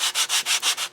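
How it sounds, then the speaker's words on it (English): A sanding block rubs back and forth across a fused glass investment mold, giving five even, close rasping strokes in a steady rhythm with no voices. "sanding it back and forth, and it's giving it, you know, a little better depth"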